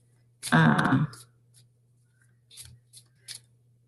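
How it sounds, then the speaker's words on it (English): Romance angel oracle cards being shuffled: a quick papery riffle of about half a second, followed by a few faint, scattered taps and flicks of the deck in a quiet room with no talking. "So I'm shuffling the romance angel cards"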